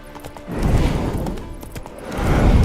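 Horse hooves in The Witcher 3 video game clatter over a rumbling game soundscape, the clopping swelling in the middle and again at the end, fairly close and with no speech.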